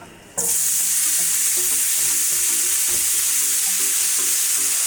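Potatoes hit hot oil and burst into a loud, steady sizzle that starts abruptly and carries on evenly, with faint low clicks underneath and no talking.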